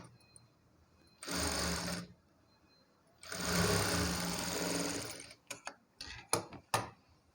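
Sewing machine stitching a blouse in two clear bursts of rapid mechanical whirring, followed by a few short clicking runs and taps, heard close up with no talk.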